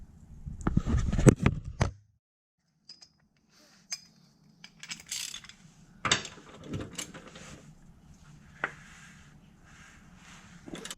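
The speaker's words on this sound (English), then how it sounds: "we're going to take off this bolt right here for the steering rack" Metal clinks and tool clatter ring out while steering rack bolts are removed from an Audi 8V, with sharp close taps and rattles spread unevenly between quiet gaps.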